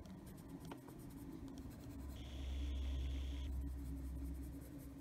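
A chocolate-brown colored pencil shading on paper in an adult coloring book, a soft continuous scratchy rubbing with a faint steady hum in the background.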